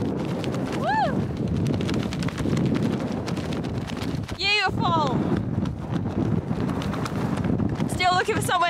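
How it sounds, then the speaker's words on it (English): Strong wind on a remote island hike buffets the microphone in a continuous low roar, loud and close, with brief snatches of a voice breaking through now and then. "Really windy."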